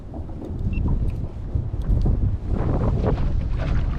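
Strong wind buffeting a microphone out on a lake during a crappie fishing trip, a steady loud low roar with gusts that swell and dip throughout, no voices.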